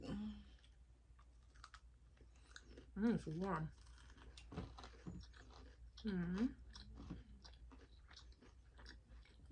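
Chewing and crunching on a brownie cookie with a crunchy exterior from a Long Island cookie shop; a few close, moist bites and crunches come and go under steady conversation.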